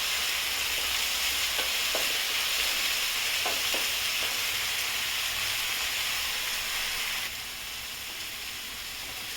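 Ground tomato added to onions in a hot pan sizzles and hisses steadily, a continuous close frying crackle with a few stirring clinks, easing slightly toward the end.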